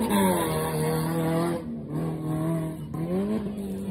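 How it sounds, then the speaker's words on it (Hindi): A loud Maruti Gypsy revs hard on a dirt track at a motorsport ground, its engine note climbing and dipping in a steady, screaming howl close by with no speech. "एक और लाउड जिप्सी आ चुकी है, बहुत ही खराब चीख रही है।"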